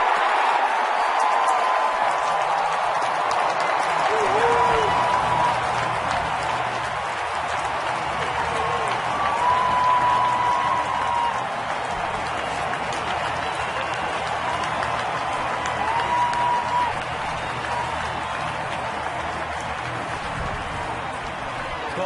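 Crowd at a baseball stadium during a 2010 Twins ALDS playoff game, a steady roar of cheering and applause sustained throughout, with faint whistles and calls rising above the dense wash of noise.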